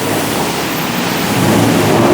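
Heavy rain pours down on a Bangkok street near Siam BTS station, a dense, steady broadband roar that stays loud and unbroken, with no voices.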